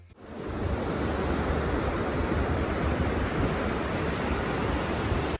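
Ocean surf washes steadily onto a beach as a loud, continuous rush of broadband noise with some wind, unbroken by any voice.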